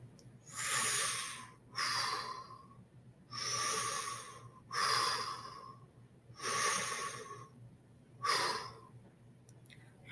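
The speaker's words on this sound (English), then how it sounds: "Herbert's panting was kind of scary" Heavy, breathy panting from a mouth breather, with six or so long rasping breaths in a slow, even rhythm, close and fairly quiet.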